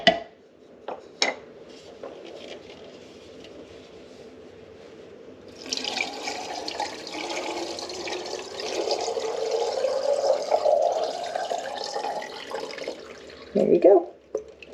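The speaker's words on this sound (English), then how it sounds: "you're just going to pour that in there until everything is submerged" Water pours steadily through a funnel into a half-gallon glass jar packed with eggs, a sustained gurgling rush that rises in pitch as the jar fills, followed by a brief splash near the end.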